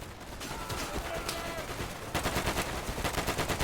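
Heavy gunfire rattles through a World War II battle at Pegasus Bridge in the shooter Easy Red 2, with overlapping rifle and machine-gun bursts, near and loud, sharpening into a rapid rhythmic volley partway through.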